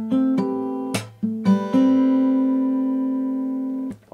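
A riff on acoustic guitar, a short run of plucked and percussively struck notes, then one long ringing chord that sustains and fades alone before a final muted knock.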